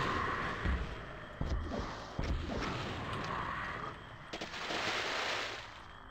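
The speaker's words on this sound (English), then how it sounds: "And here's the secret I added to this area. Rocket launcher." Rocket launcher fire in Quake, a run of loud blasts and impacts in quick succession over a constant game ambience, with sharp hits around the middle and a long rumbling burst near the end.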